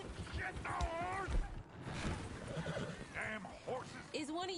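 A horse in Red Dead Redemption 2 neighs in several loud, quavering whinnies with hoofbeats mixed in, while people talk and exclaim throughout.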